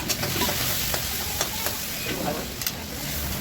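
Tomatoes fry in a pan of ground-spice masala, giving a loud, steady sizzle close up with a few light scrapes and clicks from stirring.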